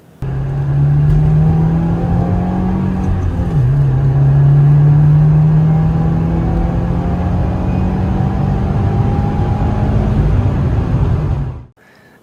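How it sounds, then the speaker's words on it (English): A 2021 Subaru WRX STI four-cylinder engine revs steadily up close, a strong low hum holding for about eleven seconds with a slight dip and rise in pitch before cutting off abruptly. "listening to the engine of it, listening to it rev up"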